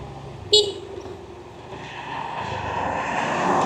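A Honda Vario scooter pulls away on a hot touring ride along the Trans-Sumatra road, its engine rising in a steady drone that builds louder after a brief sharp horn-like toot near the start, with a voice heard over it.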